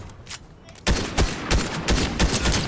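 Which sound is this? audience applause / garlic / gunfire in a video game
gunfire in a video game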